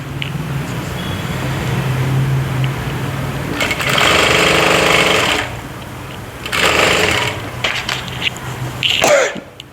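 A sewing machine stitches a fabric neckline in two loud rattling bursts of rapid stitching, separated by quieter handling of the cloth and ending with a short clatter.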